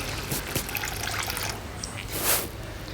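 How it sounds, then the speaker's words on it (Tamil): Water poured over moong dal to rinse it, a steady splashing trickle running through the whole stretch with a brief louder gush near the end, no voices. "பாசிப்பருப்பை போட்டுட்டு தண்ணி ஊற்றி ஒரு ரெண்டு மூணு தடவை நல்லா அலசிடலாம்"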